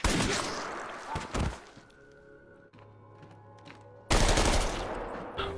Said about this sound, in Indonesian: Penjaga dan si dokter pun ditembak.